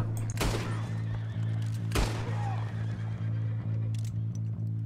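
A horse neighs in Red Dead Redemption 2 amid in-game hoof clatter and a sharp impact, set over a steady low droning hum with two loud bursts near the start.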